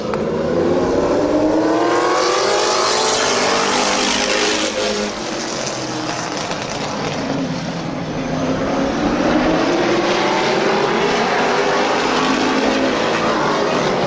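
Late model race cars roaring around the Midvale Speedway oval in a heat race, a loud continuous wall of engine noise with revving rising and falling as packs of cars pass, no talking.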